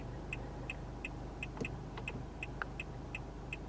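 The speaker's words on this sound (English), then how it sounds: "I don't like that turn signal sound." Turn signal on a 2022 Nissan Altima SV clicks in a steady, even rhythm, about three crisp electronic ticks per second, quiet and close inside the cabin with a low engine hum beneath.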